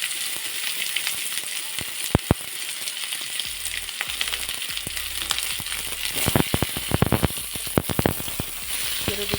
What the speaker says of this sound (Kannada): ಇದು ದಪ್ಪ ಗಾತ್ರದ ಈರುಳ್ಳಿ ಹೆಚ್ಚಿಕೊಂಡು ಹಾಕ್ತಾಯಿದ್ದೀನಿ